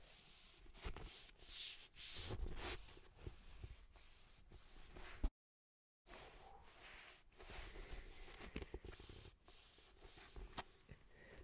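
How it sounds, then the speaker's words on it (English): Gentle rubbing across the matte cover of a book, soft and close, in a steady series of strokes with a brief pause midway and no talking. "just some nice gentle, rubbing sounds"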